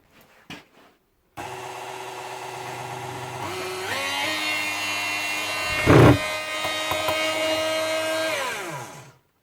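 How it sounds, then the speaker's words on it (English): A KitchenAid Artisan stand mixer with a broken head switches on and its motor whirs loudly and steadily while the beater stays still, with a brief clunk midway and the hum winding down at the end, close up. "Motor's turning, but nothing spinning."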